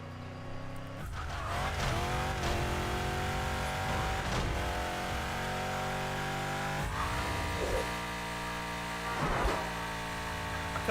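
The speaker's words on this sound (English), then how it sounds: "Here's an ancient racing car." An ancient racing car in Burnout 3 roars close and loud, its engine revving and shifting with repeated tire squeals and skids throughout, no voices over it.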